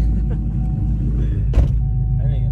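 A Camaro ZL1 engine idles with a loud, steady, rough low rumble throughout, with a brief surging burst partway through; no speech over it.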